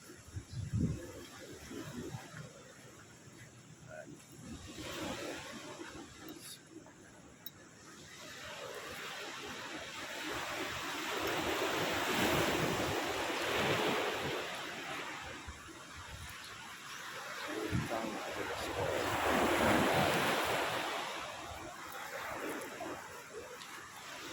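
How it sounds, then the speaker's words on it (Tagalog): Sea surf rolls onto the shore beside a beach resort in Sablayan, Mindoro. Slow swells of washing water rise and fall twice at moderate distance over a quiet background hiss. "Dagat."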